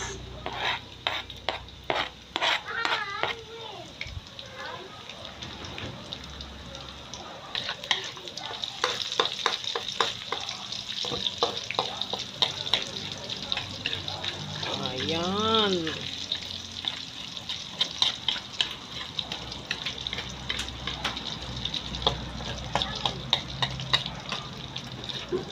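Onions sautéing in a pan: a continuous close sizzle with frequent stirring scrapes and clinks throughout, and a voice speaking occasionally over the cooking.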